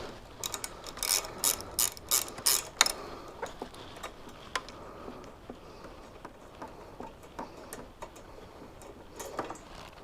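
A 10mm ratchet undoes bolts on a 2018 Honda Africa Twin motorcycle: quick runs of crisp ratcheting clicks come first, then sparser, fainter ticks, heard close with no talk.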